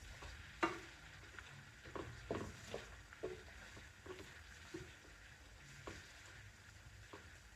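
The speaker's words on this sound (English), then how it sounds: "Keep kind of, stirring them around to make sure that they aren't burning at the bottom" Soy pieces frying in oil in a pan while being stirred, a soft low sizzle with quiet scraping knocks from the utensil at irregular intervals, close and faint.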